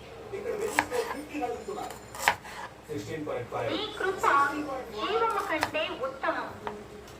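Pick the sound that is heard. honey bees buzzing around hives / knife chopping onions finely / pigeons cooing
knife chopping onions finely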